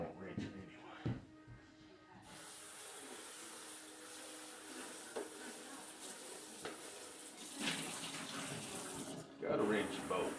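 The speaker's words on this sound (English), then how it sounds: "I know it's clean, but I'm gonna rinse it anyway." Kitchen tap water gushes into a sink while a bowl is rinsed, a steady close rush that starts after a brief pause and ends with clattering splashes; a voice talks briefly over it.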